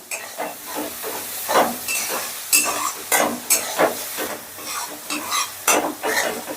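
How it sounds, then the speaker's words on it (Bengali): Spice masala for chilli chicken stir-fried in a hot pan, loud close sizzling broken by rhythmic scraping strokes of a spatula, repeating every half second or so. "তাই জন্য আমি অল্প সময়ের জন্য কষিয়ে দিচ্ছি"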